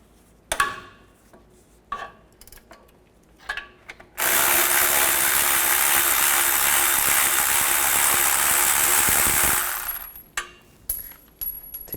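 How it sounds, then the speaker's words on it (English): A ratchet with a 13mm socket removing a stud on a 2007-2014 Chevrolet Silverado 2500 HD during catalytic converter work: a few sharp clicks, then a loud steady mechanical whir for about five seconds, then more scattered clicks. "Take this stud out, use a 13mm socket."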